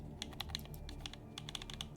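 Quick, crisp clicks of a computer keyboard being typed on, arriving in short irregular bursts close by with no voices over them.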